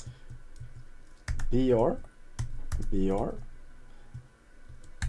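A computer keyboard clicks in short, light bursts while someone enters HTML into a web app's output box; the taps are fairly close and sit partly under a person talking.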